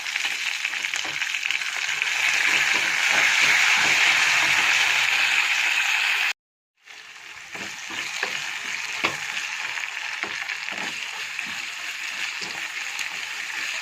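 Onions, coriander and mint sautéing in a pan for a hotel-style chicken kuruma, a steady loud sizzle with stirring scrapes, briefly cut off partway, then resuming as a slightly softer fry.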